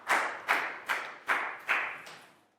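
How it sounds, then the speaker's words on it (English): A classroom group claps in unison for a student, giving five sharp, evenly spaced claps that sound close and crisp. "big round of applause for Pat"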